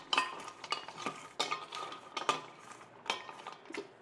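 A spoon stirs leftover idli chaat ingredients in a bowl, making quick, close clinks and scrapes in uneven bursts with short pauses and no voices.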